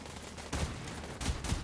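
Pistol shots in the video game Borderlands 3: three sharp, punchy bursts, one near the start and two close together toward the end, over a low steady background.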